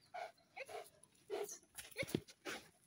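A dog whines and yips in short bursts during a behaviour and temperament assessment outdoors, fairly close, with brief pauses between cries and no talk over them.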